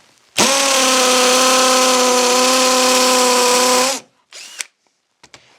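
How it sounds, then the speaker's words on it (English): A Kimo hammer drill run in hammer mode gives one loud, steady, buzzing whine that holds for about three and a half seconds and then stops abruptly, followed by a few faint clicks and knocks. "Let's click this over to the hammer drill and see if it makes much of a difference"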